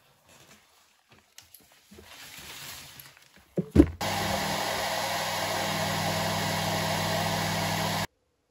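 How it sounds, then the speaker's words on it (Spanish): A hair dryer runs during a protein treatment for damaged curly hair. After a few seconds of quiet rustling and handling clicks, it switches on abruptly and roars as a steady, loud whoosh until it cuts off. "voy a entrar en el secador por unos 20 minutos"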